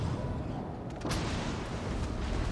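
Naval gunfire in World of Warships Legends comes as a heavy, rumbling boom that swells around the middle of the clip and then rolls on as a dense low roar, loud and close with no talk.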